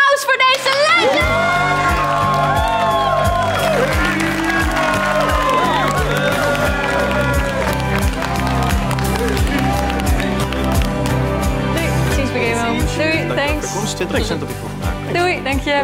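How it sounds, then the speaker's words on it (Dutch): Applause and cheering from a studio audience at a televised gaming show ring out over a steady beat of music, with whoops and voices mixed in throughout. "Applaus voor deze legende!"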